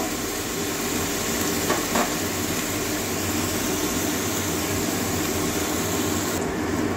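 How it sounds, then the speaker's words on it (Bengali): Steady, dense sizzling of onions frying in a hot pan, continuous and fairly loud throughout with no voices. "একটু ভাজা করে নেবো, ভাজা গন্ধ যাওয়া পর্যন্ত।"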